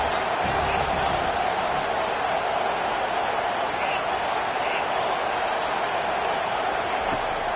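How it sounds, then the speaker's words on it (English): A football stadium crowd roars steadily and loudly on third down, a dense, unbroken wall of noise under a commentator's voice. "Decibels rising as the crowd gets behind this defense on third down."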